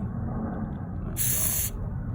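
A can of WD-40 lubricant sprays onto an outdoor faucet in a single sharp hiss of about half a second, set against a steady low background rumble.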